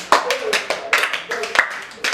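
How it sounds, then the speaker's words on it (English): Students in a chemistry tutorial classroom clap for a classmate, a small group's loose, uneven claps with a few sharper standout hits, close and short-lived. "Okay, clap for him."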